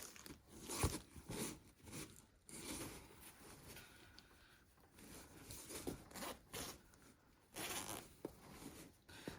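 A zipper is run along an extra-large clothing item while it is unboxed from a parcel, giving several short scratchy zipping bursts close to the microphone, mixed with crinkling packaging.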